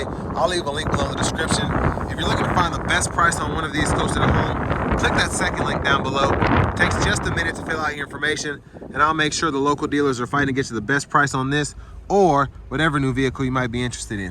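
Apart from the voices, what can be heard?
strong wind gusts blowing into microphone outdoors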